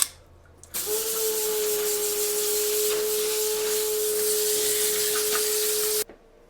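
A hose sprays water in one continuous hiss for about five seconds, starting and stopping abruptly, close and fairly loud.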